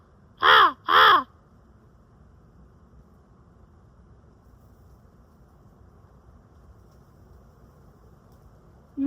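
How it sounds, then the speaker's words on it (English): Two loud, harsh crow caws come close together near the start, and a long quiet stretch of faint outdoor background follows. "So I believe we have found a group of crows."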